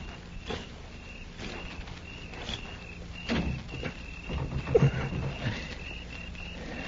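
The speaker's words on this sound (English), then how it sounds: "I'm going to try the door." A door handle rattled and a bolted door shoved in an old western radio drama, with muffled thumps and latch clatter over a faint insect-like background hum, moderately close.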